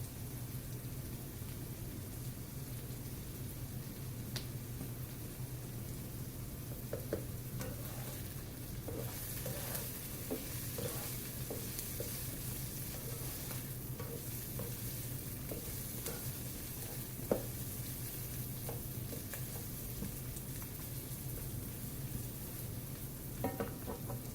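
Garlic sizzles steadily in hot oil for fried rice, a continuous frying hiss with occasional spatula scrapes and taps, close and even throughout.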